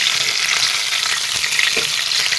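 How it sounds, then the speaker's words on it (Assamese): Fish pieces fry steadily in hot oil in a pan for a fish curry with green peas, a constant dense crackling sizzle with no pauses. "এতিয়া মাছখিনি মোৰ ধুনীয়াকৈ ফ্ৰাই হৈ গৈছে। অলপ অলপ ফ্ৰাই কৰিছোঁ।"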